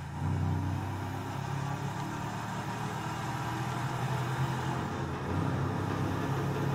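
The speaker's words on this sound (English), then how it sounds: "Damn, this truck is loud, man." A truck engine in the video game GTA V rumbles steadily and loudly throughout, a constant low drone with slight swells, with no talking.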